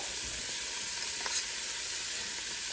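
Garlic sizzling steadily in a hot pan while being stirred, a continuous bright frying hiss with a faint scrape of the spoon partway through, close and unbroken, made while cooking Southern black-eyed peas with collard greens.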